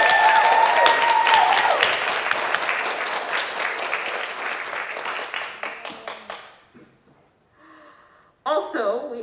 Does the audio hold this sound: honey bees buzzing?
no